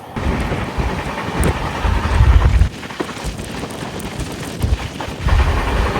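A Howrah to Mysore train crossing past a moving express between Srikalahasti and Venkatagiri, heard from aboard as a loud, steady rumbling roar with gusting wind and rattling, swelling briefly at moments.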